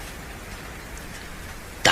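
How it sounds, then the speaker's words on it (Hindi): Heavy rain pours down in a constant hiss, steady and moderately loud throughout, with a sudden louder burst at the very end. "बहुत क्यों मस्त बारिश हो रही है"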